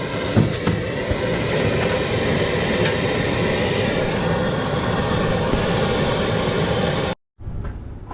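A torch heats the neck of a doser valve on a Freightliner Cascadia truck, making a loud, steady roaring hiss close by that runs unbroken before cutting out abruptly near the end.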